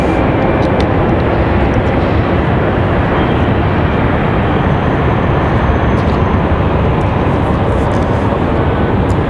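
A JetBlue airliner departs Raleigh-Durham International, its jet engines a loud, steady broadband roar that holds unbroken throughout with no talk over it.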